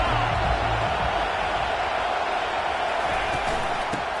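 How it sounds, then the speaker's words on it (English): A stadium crowd in an NCAA college football video game roars as a steady, dense wash of noise that stays loud throughout, with a low rumble of voices and faint cheering mixed in. "this crowd is turning it up a notch"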